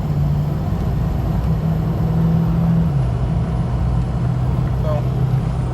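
A Ford 6.0 Powerstroke diesel truck drives at half throttle, giving a steady, loud low engine drone with a constant hum and road rumble and no break in its level.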